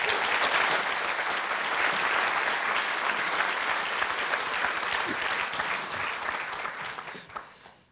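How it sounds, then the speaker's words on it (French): A storytelling evening audience gives sustained applause for a speaker about to talk on Sri Lanka, a dense, even wash of many hands clapping that gradually fades out at the end. "Merci d'applaudir Céline Bress."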